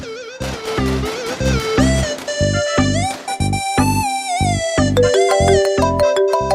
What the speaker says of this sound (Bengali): স্যার ফোন এসছে